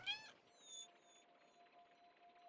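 A cartoonish cat meows briefly at the start of a cute casual puzzle game, followed by soft chimes and a faint sustained tone with light sparkly effects.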